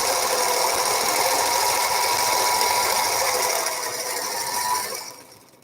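A home sewing machine runs steadily while stitching fabric flat, guided along a quarter-inch edge of the presser foot, with a fast mechanical whir and rapid clicking needle rhythm, up close and continuous before it stops near the end.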